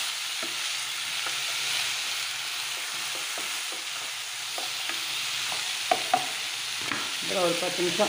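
Vegetable rice with salt stirred in a hot pan over a steady sizzle, with scattered scrapes of the spoon that grow busier toward the end while a voice speaks briefly.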